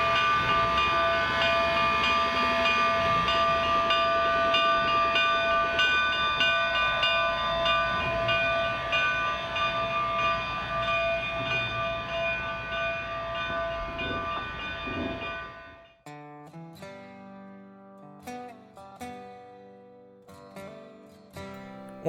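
Cumbres & Toltec steam locomotive Engine 484 pulling a train out of Chama, New Mexico, toward Cumbres Pass; a loud sustained whistle and steady rumbling chug fill the first fifteen seconds, then the train sound cuts off abruptly.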